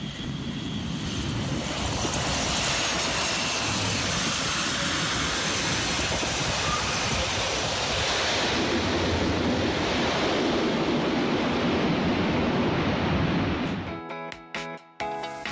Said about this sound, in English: That was the sound of an Atlas A400M landing on a semi-prepared runway.